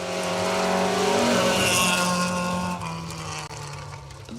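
A Datsun 160J Violet rally car drives a forest stage at the Kielder Forest Rally 2023, its engine loud and close with a strong, steady tone before it recedes and the sound drops away.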